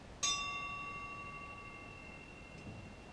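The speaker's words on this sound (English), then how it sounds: "The bell invites me." A single bell strikes once with a bright metallic clang that rings out and slowly fades over several seconds, a lone knell in an otherwise quiet space.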